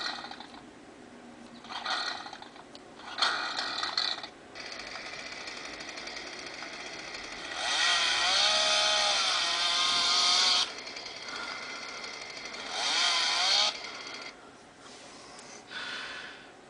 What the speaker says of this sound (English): what gun app wouldn't be complete without a chainsaw?